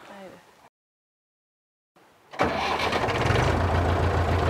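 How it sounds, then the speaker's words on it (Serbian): A tractor engine cranks and catches, then settles into a loud, steady running rumble after a brief quiet gap; a voice talks faintly before it starts. "ajde da provozneš malo traktor"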